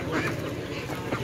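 Ducks quack at a busy poultry market, a few close, loud calls heard over the crowd noise.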